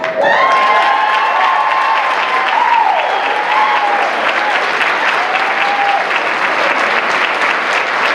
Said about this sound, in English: Let's give another round of applause for our treasurer, Zach Kona.